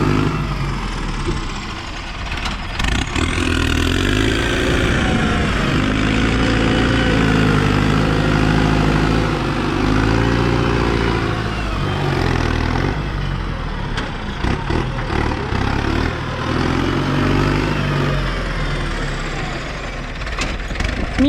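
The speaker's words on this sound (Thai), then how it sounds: "ตัวนี้เป็นเครื่องยนต์เทอร์โบนะครับ" A Ford 7610 tractor with a turbo engine and a rake attached, running steadily at a low idle with a deep, continuous diesel rumble and knocking, loud and close with occasional shifts in tone.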